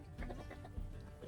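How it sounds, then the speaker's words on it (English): Chickens clucking as a flock scrambles to peck at grains, a few close, soft clucks in quick succession. "Watching the chickens scramble to peck at the grains, Lily giggled"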